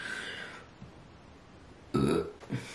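A woman lets out a couple of short burps after tasting coffee, a louder gulping belch followed by a smaller one, close up in an otherwise quiet room.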